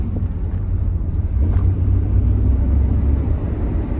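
A 1992 Chevrolet Camaro RS engine rumbles low and steady from inside the car, with road and wind noise holding constant throughout.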